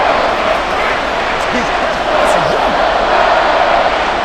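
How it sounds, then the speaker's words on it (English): Steady roar of a stadium crowd during a simulated Madden NFL 24 game between the Miami Dolphins and Detroit Lions, loud and continuous from start to finish, with faint voices riding on top. "the crowd getting into it as we come up on a big 3rd down"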